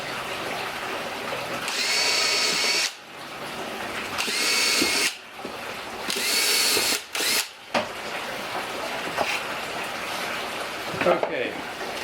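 A power drill boring holes in a wooden beehive inner cover, several loud whirring bursts separated by short pauses, with a person talking between drilling runs.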